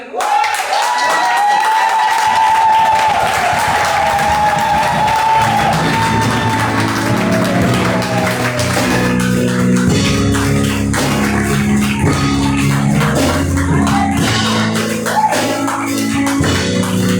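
An audience applauds and cheers for a young speaker at a youth praise and worship evening, loud sustained clapping and crowd noise that blends into music and continues throughout.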